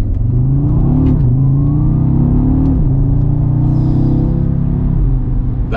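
A 2.5-litre five-cylinder turbocharged engine in an Audi RS Q3 Sportback revs loudly and steadily, its deep rumble rising and dipping in pitch through a few throttle blips, with no talking over it.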